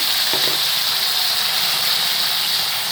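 Loud, dense hiss of chicken added to hot oil with fried garlic and curry leaves, a continuous close roar with a couple of brief clatters near the start.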